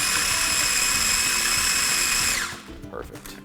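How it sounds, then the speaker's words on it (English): A Cuisinart mini chopper chops tartar sauce ingredients with a loud, steady high-pitched electric whir that runs continuously, then cuts off abruptly and leaves a faint clatter behind. "This little chopper makes short work of it."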